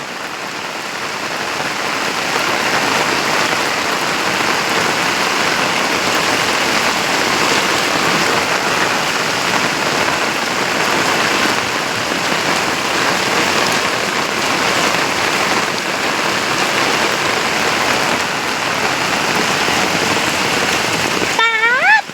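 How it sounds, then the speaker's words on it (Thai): Heavy rain pours down steadily in a dense, continuous hiss, with no pauses from start to finish. "มาดูบรรยากาศฝนตก อีก มือนี้นะพี่น้อง"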